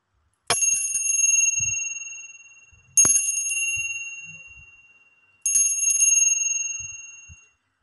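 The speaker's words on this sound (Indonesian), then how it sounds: "kita akan melanjutkan dengan ditandai lonceng berbunyi" A small bell rings three times in slow, evenly spaced strikes, each a bright metallic ding that rings out and fades before the next, clear and close with near silence between.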